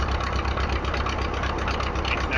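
A 1919 tractor engine idles low and steady with a rough, even chug, close and continuous throughout.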